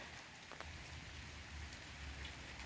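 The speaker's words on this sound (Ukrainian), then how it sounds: "мав іти до хлопців, але дощ посилився" Heavy rain pours down outdoors as a steady, dense hiss of drops on surfaces, faint and unbroken, with no voices.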